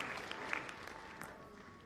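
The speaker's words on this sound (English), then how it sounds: "Let's clap for the commissioner for the Delta region" Brief, fairly faint applause from an audience clapping for the Delta region commissioner at a Sierra Leone electoral system committee meeting, a short ragged patter of hands without talk.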